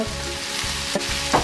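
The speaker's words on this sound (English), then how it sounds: "After we saute the potato, onion, and tomatoes" Potato, onion and tomatoes sauté in a pan with a steady close sizzle, broken by a couple of brief scraping stirs near the end.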